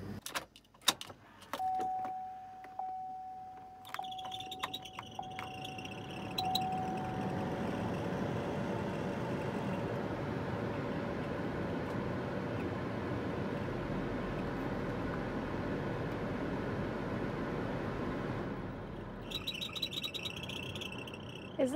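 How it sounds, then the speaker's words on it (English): A failing AC blower motor in a 2005 Chevrolet Tahoe starts up with clicks, then settles into a steady, loud whooshing drone with a faint whine, running on for most of the stretch before a clicking shut-off at the end. "Whether it sounds like an obnoxious squeaking or an airplane flying straight over your head, the main cause is likely to be the fan AC blower motor"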